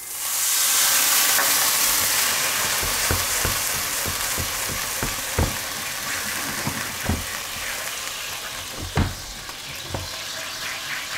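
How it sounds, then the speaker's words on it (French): A pan sizzles loudly as armagnac goes in to deglaze it for an entrecôte with mushroom sauce, a steady close hiss with scraping and stirring knocks throughout. "Et maintenant, on va déglacer avec l'armagnac."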